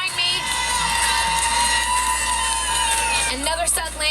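A crowd cheers at a women's gymnastics meet between North Carolina and Clemson in an arena, a loud sustained roar mixed with tonal sounds while a voice talks over it.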